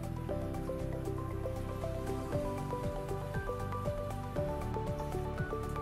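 Water running and dripping while conditioner is rinsed out of soaking wet hair, a close, steady splashing patter with soft squishy sounds, no talking.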